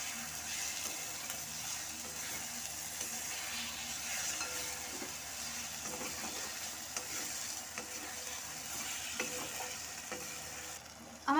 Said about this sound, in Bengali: আমার আদা রসুন টমেটোটা দেখতে পাচ্ছেন মোটামুটি ভালো করে কষা হয়ে গেছে